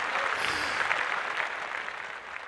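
A room of listeners applauds in a brief, steady round of clapping at moderate loudness, fading slightly toward the end.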